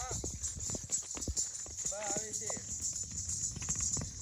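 A dancing mare's hooves clip-clop in a quick, uneven rhythm on hard ground, close by, under people talking, with a thin steady high whine running throughout.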